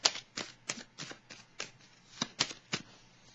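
Tarot cards riffled and shuffled in a rapid run of about ten crisp, papery bursts, close and fairly loud, with no talking over them.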